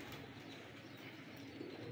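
Pigeons of a fancy breed cooing in a loft, a low steady murmur of coos that runs throughout against a constant background hum, with no voices.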